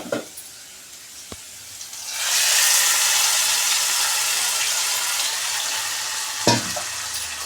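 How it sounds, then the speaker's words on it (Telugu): Black-eyed pea curry in a pan starts quiet with a utensil knock, then swells into a loud, steady frying sizzle that holds for several seconds, broken by another clatter of stirring near the end. "ఇప్పుడు ఇది కలుపుకుందాము కలుపుకున్నాక వేగనిద్దామండి బాగా"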